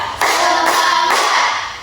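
A classroom of students claps together on cue, a loud, dense patter of many hands arriving in short rhythmic bursts.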